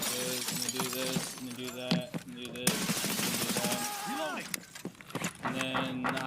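Escape from Tarkov gunfight, with sharp gunshots and bursts of fire cracking over game audio and overlapping talk, loud and close throughout.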